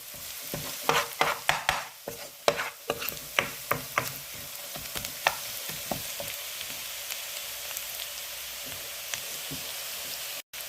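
Chopped garlic stirred in a cooking pot while cooking omena: a spoon scrapes and clacks in a quick irregular series over a soft steady sizzle, the strokes thinning out as the frying hiss carries on alone.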